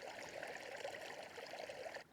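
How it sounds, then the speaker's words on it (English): Water trickling past a beaver dam in a cabin pond: a faint, continuous babble and gurgle that holds steady, then drops off abruptly just before the end. "This is the majority of the water is coming down over here."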